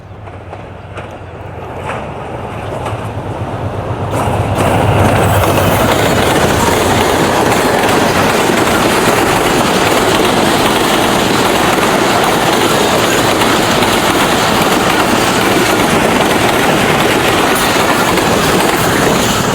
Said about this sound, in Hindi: उसको दूसरा लोकोमोटिव 6010 दिया गया है। उसके साथ अभी ट्रेन आ रही है।